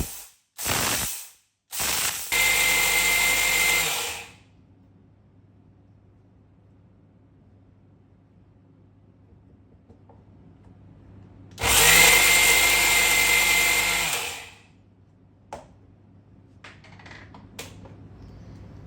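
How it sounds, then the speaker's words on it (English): A kitchen mixer grinder grinding chana dal into a coarse powder, heard in loud close bursts: a few short pulses, a longer run, a long pause with low hum, then another sustained grind of a few seconds. "In this way, you have to grind chana dal into coarse powder."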